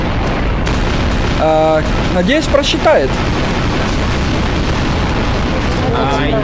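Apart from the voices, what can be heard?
explosion in the video game Garry's Mod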